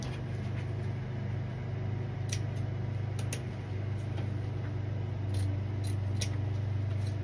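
Scissors snip through burlap ribbon for a Christmas wreath, a few crisp cuts clustered in short bursts over a steady low background hum, with no one talking.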